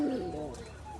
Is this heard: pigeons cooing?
yes